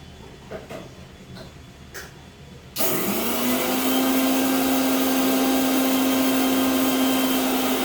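A mixer grinder dry-grinds black mustard seeds, starting after a few soft clicks and then running as a loud, steady whirring drone with a sustained motor hum until the end.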